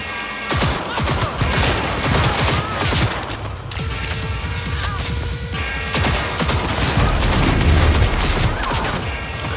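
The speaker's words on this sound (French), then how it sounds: "Des grenades." Grenade explosions and bursts of gunfire in the video game Cyberpunk 2077, loud and continuous, with heavy booms and rapid shots layered over a dense battle din.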